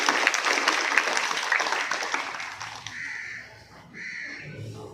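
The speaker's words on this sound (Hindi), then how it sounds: "तो एक बार जोरदार तालियां ऐसी महान विभूति के लिए।" A school prayer assembly audience bursts into loud applause, thick clapping that fills the hall for about three seconds and then thins out. Faint bird calls and low murmurs follow in the quieter space.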